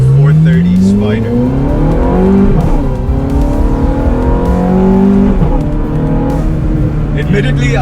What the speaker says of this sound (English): welcome to Pakistan's only Ferrari F430 Spider